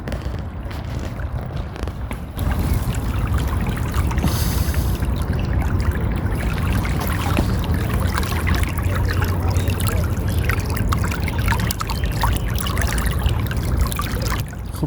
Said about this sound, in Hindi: पानी की आवाज़ सुने।